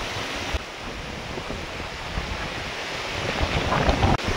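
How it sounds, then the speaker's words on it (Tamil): Strong mountain wind roaring steadily in the Himalayas, a loud continuous rush buffeting the microphone with no voices. "அந்த அளவுக்கு காற்று இருக்குது இங்கே"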